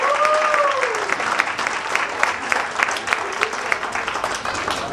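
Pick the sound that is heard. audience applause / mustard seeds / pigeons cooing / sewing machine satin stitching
audience applause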